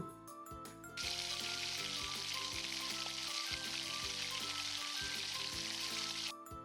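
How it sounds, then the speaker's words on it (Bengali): Bangladeshi oil pitha fries in hot oil, a dense, steady sizzle that starts abruptly after a second and keeps going close up, with soft music playing underneath. "একইভাবে সবগুলো পিঠা ভেজে নেব।"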